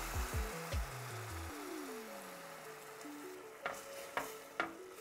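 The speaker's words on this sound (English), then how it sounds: "Masala is frying really nicely." Soft, steady sizzling of masala frying in oil runs beneath gentle background music, with a few sharp clicks near the end.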